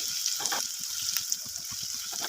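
Onions frying on a tawa give a steady close sizzle, broken by soft scraping and stirring strokes at an irregular rhythm.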